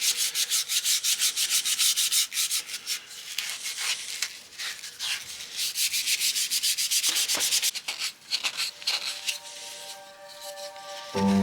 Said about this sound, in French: C'est poncé au 120, donc on va continuer à polir tout ça